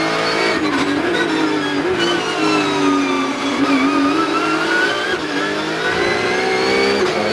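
Porsche Carrera Cup race car at Assen heard from onboard, its engine revving hard and climbing through the gears in a loud, continuous howl that dips briefly on shifts, with faint tire noise underneath.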